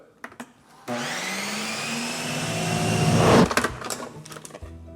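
An ice cream machine churns pickle ice cream with a whirring motor that starts abruptly, grows louder and strains, then cuts off into a few clunks and rattles.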